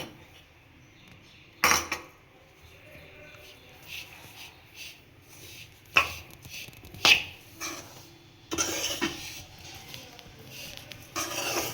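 A spoon clinks and scrapes against a metal pot while hot ghee is stirred into dry fruit laddu powder, a few sharp knocks and bursts of scraping with quiet gaps between.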